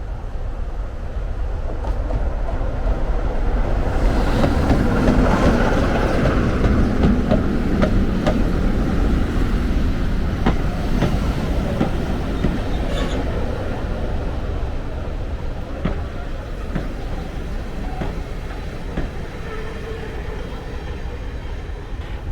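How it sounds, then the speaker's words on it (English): A diesel-hauled heritage train trundles through a level crossing with gates across the road, a steady loud rumble of engine and wheels swelling mid-pass and then easing as the carriages roll by, with faint rail clicks. "the diesel haul train comes trundling through"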